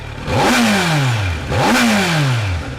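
A 2021 Kawasaki Z900 motorcycle engine revs hard twice in quick succession, each rise climbing sharply then winding back down, loud and close.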